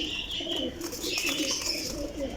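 Young pigeons kept in pairs at a pigeon dealer's coop coo softly and repeatedly at close range, with light chirps mixed into a steady background.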